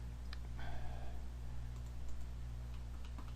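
A computer mouse clicks in a lab while the keyboard Ctrl key is held down, giving a few faint, sparse clicks over a steady low electrical hum.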